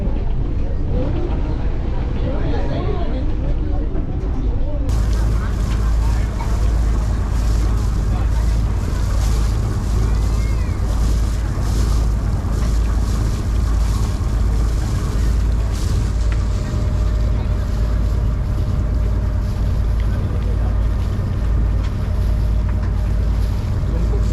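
A tourist boat on Thekkadi lake runs steadily with its engine droning and wind buffeting the microphone throughout; faint voices sit under the noise, and the sound fills out and grows louder after the first few seconds.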